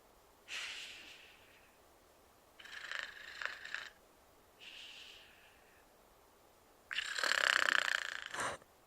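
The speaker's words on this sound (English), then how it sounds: "It's such a quiet, gentle snore." Soft, gentle snoring: four breathy, raspy snores spaced a second or two apart, the last one longer and a little louder, over quiet room background.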